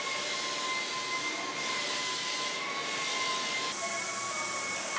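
CNC router in a granite fabrication shop running through a tool change, a steady high-pitched spindle whine with a continuous mechanical drone, loud and unbroken, with no voices.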